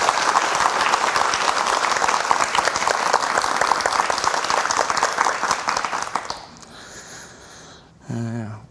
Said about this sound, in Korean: 박수로 강의 청해 주시기 바랍니다.